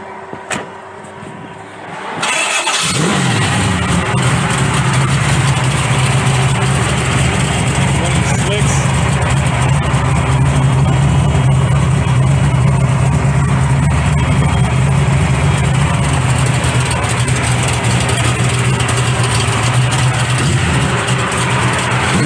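A heavily modified Mustang Fox body drag car running nitrous oxide starts up after a brief quiet moment, then idles loud and close with a steady, rough, rumbling drone that holds to the end.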